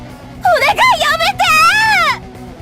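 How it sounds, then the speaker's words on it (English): Sakurai, a character in the Dies irae video game, lets out a series of loud, high, wavering screams in several bursts, the last one long and sweeping, over a low mechanical background rumble. "Sakurai's screams fell on deaf ears"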